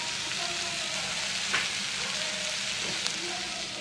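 Greens are frying in a pan with chili and coriander powder, giving a steady, dense sizzle close by with a few faint clinks of stirring.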